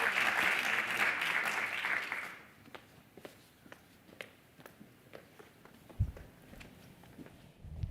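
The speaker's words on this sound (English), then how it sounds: "give a round of applause." Audience at a business school spring reunion applauds briefly in a steady wash of clapping, then it fades into a quiet hall with scattered footsteps and small knocks.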